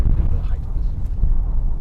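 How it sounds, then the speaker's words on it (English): Steady, blustery wind roaring across an outdoor microphone at an off-grid solar build site, a dense low rumble with no pauses for the whole stretch. "It's really windy out"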